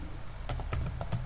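Keys tapped on a computer keyboard to enter a command: about six quick, light clicks in an uneven rhythm, close up, over a low steady hum.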